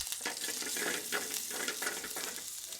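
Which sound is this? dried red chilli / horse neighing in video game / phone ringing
dried red chilli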